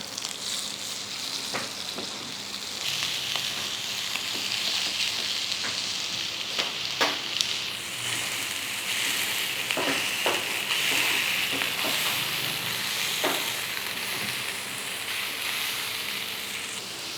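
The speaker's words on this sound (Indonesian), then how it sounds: "Grill pan gua langsung aja kita panggang si satenya." Chicken satay skewers sizzle on a hot grill pan, a continuous loud frying hiss with occasional crackles and pops throughout, close and with no talking.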